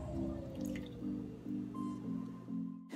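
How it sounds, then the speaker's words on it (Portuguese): A cup of olive oil is poured into a measuring cup in a kitchen, a faint, close glugging gurgle in repeated pulses as the liquid flows, with no talk. "Aqui eu vou colocar 1 xícara de azeite."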